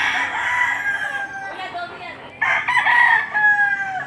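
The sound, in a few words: chicken clucking and crowing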